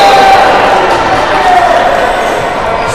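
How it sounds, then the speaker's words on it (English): A volleyball crowd reacts in a gym as a serve just misses during a men's playoff match, a sustained loud murmur and shout of many voices that holds steady then eases slightly. "Serve just misses by a few inches, as you heard the crowd."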